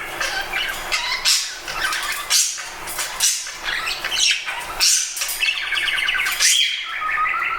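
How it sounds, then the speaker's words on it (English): A pet budgie sings on and off, a lively stream of chirps, warbles and sharp squawky tweets close to the listener, coming in short bursts with brief pauses between phrases, no voices present. "unless you don't like the sound of a happy bird singing all day long."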